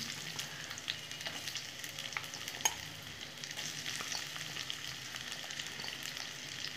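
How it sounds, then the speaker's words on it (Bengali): Sliced onions fry in a pan of hot oil spiced with cinnamon and cloves for chicken curry, giving a soft, steady sizzle with occasional stirring scrapes, faint and close with no talk. "ভালো করে পেঁয়াজটা আমি লাল লাল করে ভেজে নেব"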